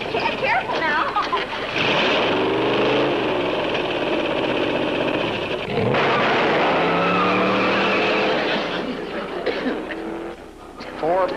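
A car accelerates hard with engine roar and tire screech, the noise swelling and sliding in two loud bursts, with faint voices underneath.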